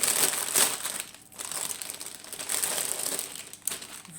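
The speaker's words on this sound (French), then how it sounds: "Je m'excuse pour le bruit de plastique." Plastic packaging from a cross-stitch kit crinkles and crackles steadily during unboxing, close and moderately quiet, with brief pauses and no speech.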